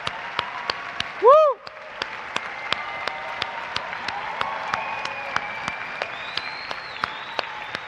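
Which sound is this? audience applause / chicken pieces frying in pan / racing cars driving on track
audience applause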